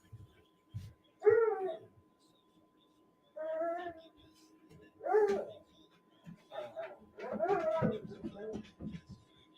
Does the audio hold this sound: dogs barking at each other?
yes